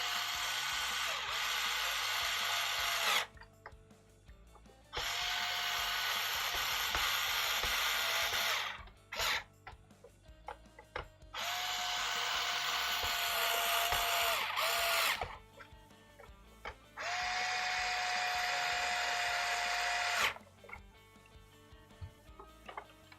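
A power drill drives a long run of screws into a Talon Pharaoh build, with several sustained whirring bursts of a few seconds each separated by short pauses of clicks and handling noise.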